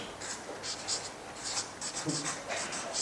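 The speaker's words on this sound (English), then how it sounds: "Could you write down bondholders?" Pen or marker writing out a word on a board during a lecture, a series of short scratchy strokes in quick bursts, fairly close, with a faint voice briefly under it.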